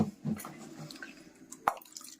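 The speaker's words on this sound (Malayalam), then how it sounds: "അപ്പൊ പുളി അങ്ങ് വെള്ളത്തിലിടാം" Tamarind goes into a vessel of water in a Kerala village kitchen, giving a few soft, close drips and plops spaced out over a quiet background.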